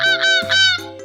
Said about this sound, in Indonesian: Betul, itu sepertinya memang angsa.